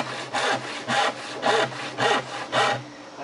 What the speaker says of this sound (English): so I can saw on through, and then I'm going to go on and make more legs